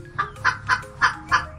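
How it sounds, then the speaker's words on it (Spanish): A hen clucks in five short, evenly spaced throaty calls, close and clear over a quiet background with no talk. "Este es el sonido que hace la gallina."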